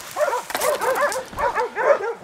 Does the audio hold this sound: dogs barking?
yes